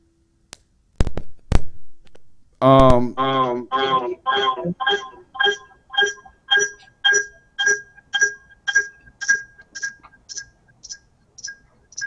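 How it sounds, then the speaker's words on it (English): Phone in the room sounding a rising, warbling ringtone: a few sharp clicks, then a long train of evenly spaced electronic pulses that gradually fade, with no speech over it. "Danielle, if you could turn your phone down."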